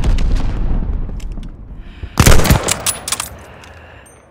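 A grenade blast in the shooter game Call of Duty: Vanguard, a loud sharp boom roughly midway with rumbling gunfire-like crackle trailing off, after a stretch of background game noise.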